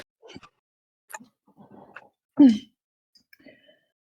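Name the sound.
distant sneeze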